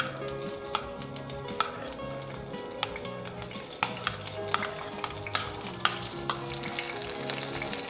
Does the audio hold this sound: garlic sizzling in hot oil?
yes